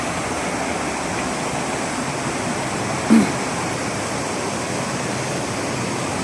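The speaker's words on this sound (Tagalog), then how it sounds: "So kanami sang agos ang tubig ko kabugnaw." Waterfall with cold rushing water, a loud continuous roar of falling and flowing water that stays even throughout, with one brief low knock near the middle.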